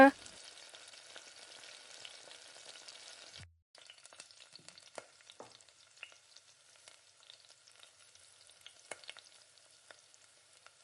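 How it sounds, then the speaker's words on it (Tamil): Mustard seeds spluttering in hot oil in a tempering for chutney, a faint crackle of scattered popping and sizzling bursts after a brief pause, near and soft. "கடுகு நல்லா பொரிஞ்சு வர்றப்ப"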